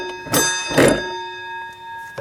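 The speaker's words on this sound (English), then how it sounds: "this here is the bell if there's a horse in your way" The bell on a 1909 Delage Voiturette rings out with a sustained metallic tone, struck twice in close succession and left to ring with a long, steady decay, then tapped once more near the end, with no voices.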